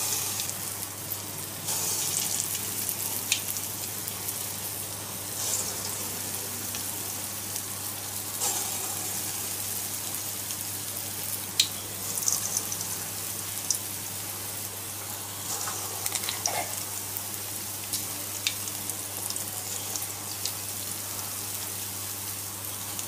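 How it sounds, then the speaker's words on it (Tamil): Ulundu bonda batter dropped into hot oil fries with a steady, dense sizzle and crackle that runs unbroken throughout, fairly close and even in loudness, with a low steady hum underneath and no talking. "இப்போ எண்ணெயில பொரிச்சு எடுத்துக்கலாங்க"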